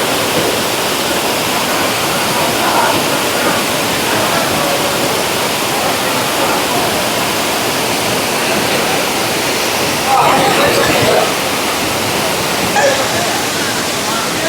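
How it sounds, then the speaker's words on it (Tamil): Hogenakkal waterfall pours with a steady, loud broadband roar of rushing water that fills the whole stretch, with a few brief bursts of louder splashing near the end. "ஆனால் இதுதான் இப்போ ஃபால்ஸ்னு சொல்கிறாங்க."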